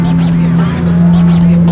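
A supercar's exhaust pipes hold a loud, deep, sustained drone at close range, joined by faint rhythmic whooshing in the background.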